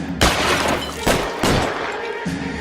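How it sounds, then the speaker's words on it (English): Bursts of gunfire from the LA Noire video game, several loud broad blasts with a sustained fusillade between them, close and dominant. "But when I shoot you, I expect you to die."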